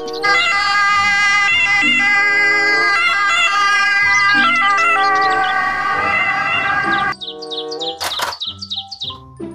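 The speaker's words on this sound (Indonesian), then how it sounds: "ambulans" A toy ambulance's loud electronic siren wails in shifting, warbling tones, then stops and gives way to brief chirpy beeps.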